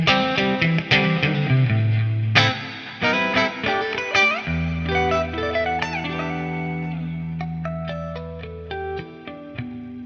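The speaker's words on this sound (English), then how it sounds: "let's just hear the clean tone then by itself so you get an idea" Clean electric guitar notes and chords ring out with reverb tails, played alone with plucked attacks and sustained low notes.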